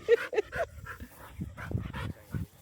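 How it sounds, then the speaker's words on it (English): A small, riled-up dog barks and whimpers in quick, excited bursts, close by and fairly loud, with yips and whines mixed together. "Well, and I've only ever had big dogs. This is the only small dog I've ever had."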